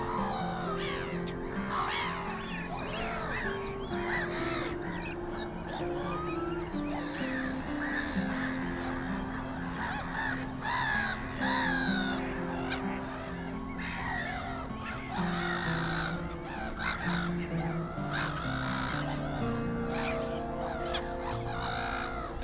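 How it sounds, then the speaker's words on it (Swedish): Wetland birds in April, skylarks trilling, lapwings calling and many black-headed gulls squawking, making a dense, continuous chorus of overlapping calls near and far. "Sånglärkorna drillar, tofsviporna är igång och man har mycket skrattmås här."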